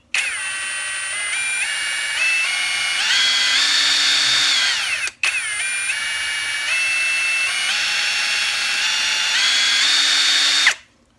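A Seyvum 20V brushless cordless impact wrench whines loudly up and down through its stepless variable-speed trigger in two long runs separated by a brief stop, pitch rising and falling, close by with no voices.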